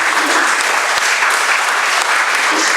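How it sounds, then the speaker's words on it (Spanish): Dense audience applause at a technical construction talk, a loud, continuous wash of many hands clapping at once, held steady for the whole stretch. "quiero que reciban con un fuerte aplauso a la licenciada Mireia Bottini"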